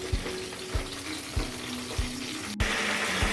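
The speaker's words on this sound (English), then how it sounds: "I'm going to fry all the vegetables and except for tomatoes, and I'm going to add it in a pan here" Vegetables for a Hyderabadi vegetable biryani fry in a pan with a steady loud sizzle and a regular soft tapping pulse underneath.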